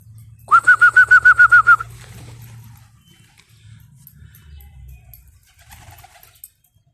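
Pigeons coo in a fast run of about nine loud, evenly spaced pulses up close, then fall away to faint rustling and low background noise.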